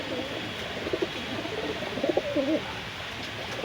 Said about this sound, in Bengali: এই এক পেয়ার টেডি কবুতর ছাড়তেছি, খুব সুন্দর কোয়ালিটির কবুতর